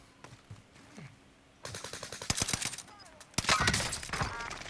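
BAR assault rifle fire in the video game Warzone on Rebirth Island, with loud rapid bursts of automatic gunshots in the second half after quieter game ambience and a few footsteps, a voice briefly present.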